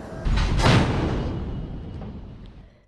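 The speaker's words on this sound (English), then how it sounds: "That's the sound of a military exercise in the South China Sea" A Chinese military exercise in the South China Sea, heard from state television as a single heavy boom or blast that rolls out and decays over a few seconds.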